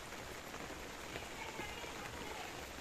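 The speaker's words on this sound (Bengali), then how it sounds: "হালকা বৃষ্টির মধ্যে কীভাবে ভোজানো হচ্ছে" Light rain patters steadily on potted houseplants in a home garden, a soft continuous hiss of drops with faint scattered taps, even and unbroken throughout.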